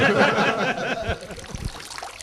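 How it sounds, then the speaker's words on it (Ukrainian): A small fountain at a leisure complex trickles and babbles in a steady splashing wash, louder for the first second, then settling into a softer, bubbling flow. "От чуєте, як як, як бульчить, як булькає цей струмочок, цей водограй, цей фонтанчик"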